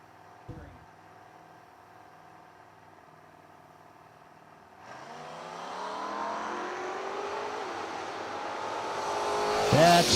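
Drag race cars at a footbrake drag racing event, including a 1973 Plymouth Duster: a low idle at first, then engines swell into a loud, building roar that keeps rising to the end, with no talk heard.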